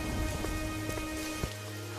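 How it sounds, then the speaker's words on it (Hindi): Heavy rain at night pours as a steady, dense hiss of drops with a faint tonal hum underneath, continuous and fairly quiet for the whole moment. "वो दोनों अपनी बेटी को लेकर मंगतू के घर के तरफ उस तेज बारिश में चलते हैं"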